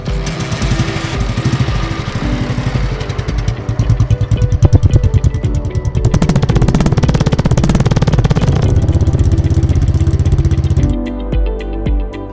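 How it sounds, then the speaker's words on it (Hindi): An 82- to 83-year-old motorcycle used in the Second World War runs close by, its engine thumping loudly and steadily with a rapid, even firing rhythm that rises slightly before easing off at the end. "जिस बाइक पे ये बैठे हैं ये सेकंड वर्ल्ड वॉर में इस्तेमाल हुई है और 82 से 83 साल पुरानी ये बाइक है।"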